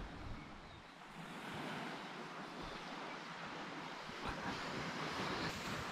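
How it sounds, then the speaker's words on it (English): Surf washes steadily onto a beach in Abel Tasman National Park, a continuous broadband roar of breaking waves with a few brief swells in loudness, mixed with light wind noise on the microphone; no voices. "Beach is looking amazing."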